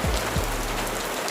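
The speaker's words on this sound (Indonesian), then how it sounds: "Tapi sayangnya kondisi di luar sedang hujan." Steady rain falls outside, a dense, even patter of drops hitting surfaces with no pauses, filling the whole moment without any voices.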